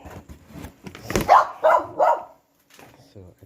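A dog barks several times in a short burst, close and fairly loud, mixed with some talking, near a washing machine being unboxed at home.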